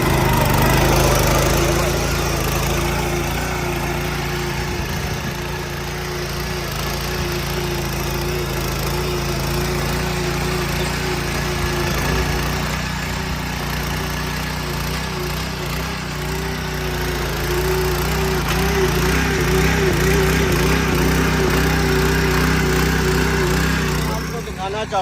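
A motorcycle engine driving a rotavator power weeder as it tills soil runs as a continuous buzzing, lawnmower-like drone for the whole stretch, loud and close, with a slight rise and fall in pitch.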